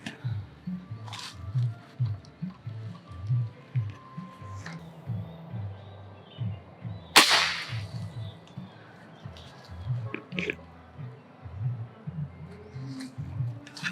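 A single sharp pneumatic crack from a Ruger Black Army PCP air rifle stands out midway, amid low murmuring and faint bird coos in the background.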